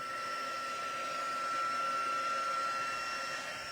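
A heat tool warming embossing powder for stamped crafts, a steady loud whirring blow like a hair dryer running continuously throughout, with no talking over it.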